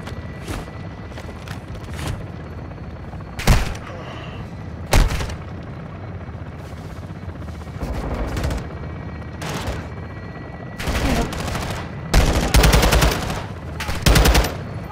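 Gunfire in Modern Warfare 2 Remastered: sharp shots and short automatic bursts crack out at uneven intervals. A louder cluster of shots comes near the end over a low background rumble.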